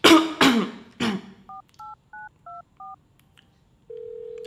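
Several rough coughs give way to five evenly spaced telephone keypad tones as a number is dialed, then a steady ringing tone begins, all close and clear.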